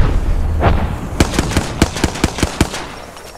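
Rapid gunfire from the Apex Legends video game, a burst of about nine sharp, evenly spaced shots ringing out loudly after a softer distant thump, with no talking.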